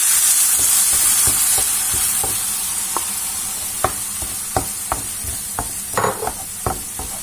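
Mushroom purée is stirred into a pan of caramelised onions, with a continuous hot sizzle and a series of distinct spoon scrapes and taps against the pan, close and clear, without speech.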